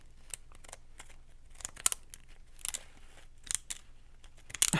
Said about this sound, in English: Just cut a design on the edge.